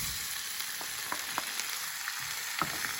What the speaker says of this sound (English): I'm going to saute this for about a couple of minutes.